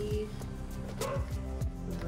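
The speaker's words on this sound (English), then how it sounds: "My dog is barking like crazy." A dog barks repeatedly in short yips and whimpers indoors, a few sharp bursts spread across a couple of seconds, at moderate distance beneath low background noise.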